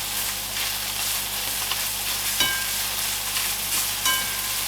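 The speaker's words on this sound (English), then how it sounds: "what I'm going to do is add my spinach and allow that to wilt down into the mixture" Spinach wilts and sizzles in a hot pan with bacon and onion, a steady broadband frying hiss running throughout with a few faint clinks of stirring, close and fairly loud with no talk.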